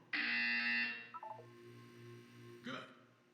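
An electronic buzzer in the Portal 2 video game gives a loud, sustained harsh tone, then a short run of lower descending beeps and a brief final blip, heard alone without speech.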